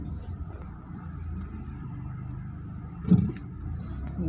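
Highway traffic: a steady low rumble of passing cars and trucks, fairly faint and distant, with one louder pass swelling briefly near the end.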